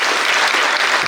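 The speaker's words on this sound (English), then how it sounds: "Another round of applause." A conference audience at an Africa emerging-markets banking forum bursts into dense, sustained clapping, loud and close, with no voices over it.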